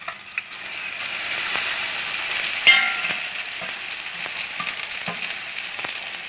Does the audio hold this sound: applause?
no